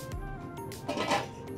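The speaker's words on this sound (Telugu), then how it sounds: "ఇప్పుడు మనం మూత పెట్టేసాం" Lid set onto a pot of simmering fish curry: a short metallic clink and rattle, close and brief, over a low kitchen background.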